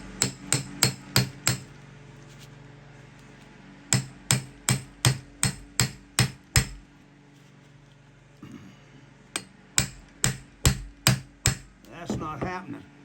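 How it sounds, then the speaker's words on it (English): A hand impact driver is struck by a hammer against a screw in bursts of sharp, ringing metallic blows, fast runs of five to eight hits separated by pauses, with faint talk near the end. "let's try the impact driver on this screw here and just see if we can't get that loosened up"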